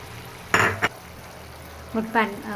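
A spoon stirs curry gravy in a pan in two short scraping bursts separated by a quiet pause, soft and close.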